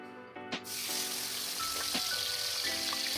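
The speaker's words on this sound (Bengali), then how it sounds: "এবারে আমি চিংড়ি মাছটা ভেজে নেব" Shrimp dropped into hot oil after potatoes have been fried in it. After a moment of quiet, a sudden loud sizzle erupts and settles into steady, close frying, with a few light utensil clinks.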